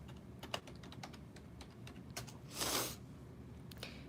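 Steady typing on a computer keyboard, with quick clicky keystrokes in an uneven run, close and moderately loud over a faint background hum, briefly joined by a short rustle, with no talking.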